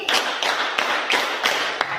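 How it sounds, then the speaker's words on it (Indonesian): A classroom group claps in unison as a wake-up exercise, giving a series of sharp, evenly spaced collective claps close by with a brief wash of noise between them. "Tepuk 5 kali"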